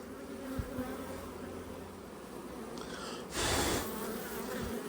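Honeybees drone steadily from an opened beehive in a rapeseed-field apiary, a dense continuous buzz that swells louder and closer near the end as bees lift off the frames.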